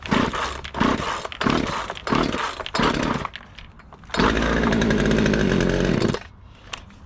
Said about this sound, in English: Go ahead and turn the saw on, pull the choke